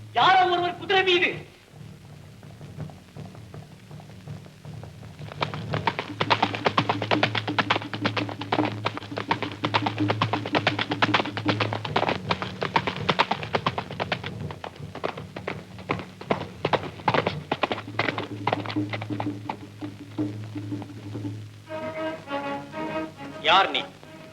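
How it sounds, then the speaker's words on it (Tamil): A horse with a rider approaches in a Tamil film scene, its hooves beating a quick, steady clip-clop that runs for long stretches over a sustained tonal music backing. "யாரோ ஒருவர் குதிரை மீது."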